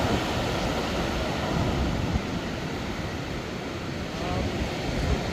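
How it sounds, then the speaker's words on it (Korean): High sea waves surge along a windy stretch of coast on the Korean east-coast Haeparang trail, a continuous broadband roar with gusting wind noise on the microphone and no voices. "파도가 제법 높네요."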